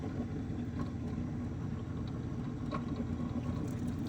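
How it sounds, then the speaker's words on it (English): A lapidary polishing wheel with 3000 grit spins while shaping a Spencer opal, producing a steady, even motor hum with faint scraping ticks. "Let's get the last polishing wheel"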